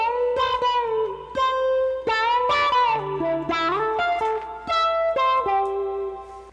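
Electric guitar plays a melodic lead phrase from a song, with sustained notes and bends, heard clearly and alone.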